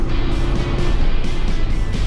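A 2020 Jeep Gladiator EcoDiesel accelerates, heard from inside the cab as a loud, steady engine drone with road rumble, continuous and without talking.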